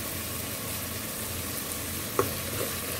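Chickpeas tossed with turmeric and curry powder being stirred in a pan, a steady soft sizzle and scraping with one sharper clink of the spoon near the end, close and moderately quiet.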